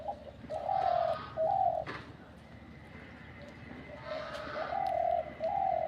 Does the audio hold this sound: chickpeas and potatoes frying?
no